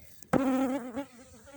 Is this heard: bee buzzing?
yes